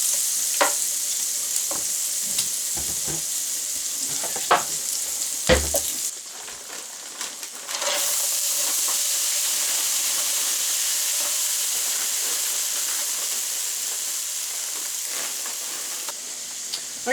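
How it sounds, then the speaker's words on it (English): Ham and hash browns frying in bacon fat on a griddle for a breakfast burrito, a loud steady hissing sizzle with occasional scrapes and taps of a spatula, growing fuller partway through. "get the ham cooked up, and in the meantime I'm going to pull out the hash browns and start those browning as well"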